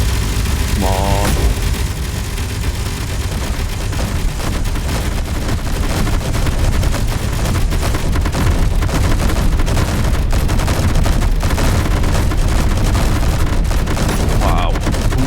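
In the space-building game Space Engineers, a loud, dense stream of gunfire from a mini battery keeps up without a break for the full fifteen seconds, rattling and booming, with voices mixed in under the barrage.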